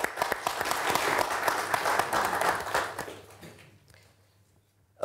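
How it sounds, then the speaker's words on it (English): An audience applauding a debate panel at a forum, a close, dense wash of clapping for about three seconds that thins out and fades to near silence. "Ladies and gentlemen, a round of applause for my panel,"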